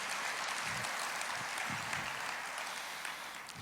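A church congregation claps together in steady, continuous applause, dense and fairly loud, filling the room without pause throughout.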